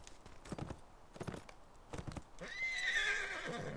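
Horse in a video game clip-clopping in a few hollow hoof beats, then breaking into a clear rising whinny, moderately close, with no talk over it.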